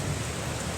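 Rain falls steadily outdoors during a June motorcycle camping trip, a dense, even hiss with no breaks, alone and moderately loud.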